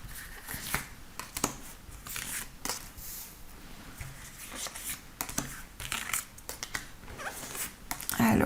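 Tarot cards drawn and handled close up, with quick papery shuffles, flicks and rustles in irregular bursts, faint and intimate over soft room noise.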